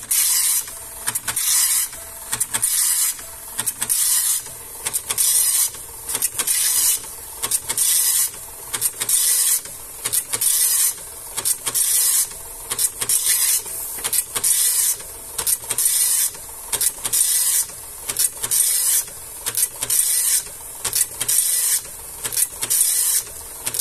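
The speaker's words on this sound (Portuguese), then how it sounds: "Essa impressora aqui o pessoal usa muito, era para decalque" An Epson LX-300 dot matrix printer printing on A4 paper, loud close buzzing print-head passes in regular bursts about a second apart with brief pauses, repeating steadily with no talk.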